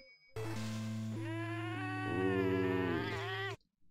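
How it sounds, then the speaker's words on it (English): A long, sustained, wavering tone with steady pitched harmonics plays loudly and alone for about three seconds during Super Mario Maker, resembling an unhappy cat's meow or whine before cutting off abruptly. "Wow, Cat was not happy about that."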